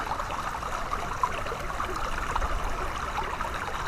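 Water flows steadily in a Missouri creek, a continuous close trickling and gurgling wash with no voices over it.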